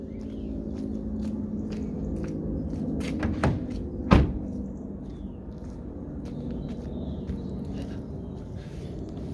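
The door of a Renault Trafic van is shut once with a single sharp thud, preceded by a few soft clicks and handling noises against a quiet background hum.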